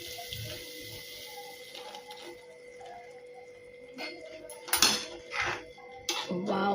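Hot milk is poured into a carrot and sugar mixture for gajar halwa, heard as quiet liquid trickles and splashes mixed with clinks of a pot and utensils, with louder clatters near the end.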